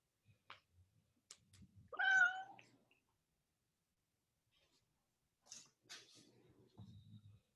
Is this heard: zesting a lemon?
no